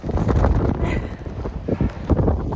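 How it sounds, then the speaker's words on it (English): Strong cold wind buffets the microphone at a fog-bound mountain summit on an overcast day, a loud, continuous rumbling roar close in, with no voices. "The wind says it's very cold."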